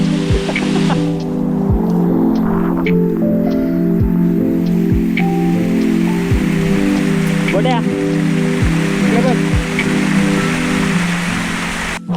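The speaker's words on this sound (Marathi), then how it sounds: "हे पायरे खूप सुंदर वाटतात कारण ह्या पायऱ्यांवरून पावसाचं पाणी जातं" Rainwater running down stone steps on a monsoon trek in the Sahyadri hills at Savlya Ghat, a steady close wash of trickling and splashing water, with scattered drips and taps over it.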